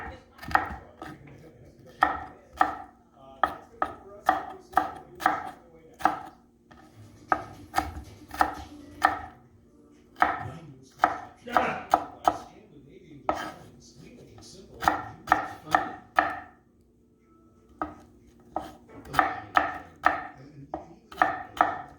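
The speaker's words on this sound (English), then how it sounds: "chop the green pepper, celery, and carrot small like this." Green pepper, celery and carrot chopped with a knife on a cutting board, rapid bursts of crisp close knocks in quick runs separated by short pauses, no talking.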